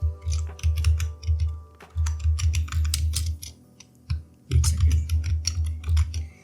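Someone types on a computer keyboard while entering a section title in a Google Form, with close, quick bursts of clicking keystrokes separated by short pauses.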